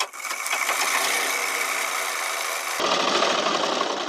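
A sewing machine stitches jeans pant lining in one continuous run of rapid mechanical whirring and rattling, close and steady, its pitch shifting partway through as the speed changes.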